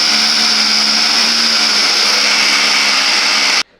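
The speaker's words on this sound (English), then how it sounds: "So that sound was an electric wrench." An electric wrench whirs loudly and steadily for about three and a half seconds, removing bolts on a Lamborghini, then cuts off abruptly.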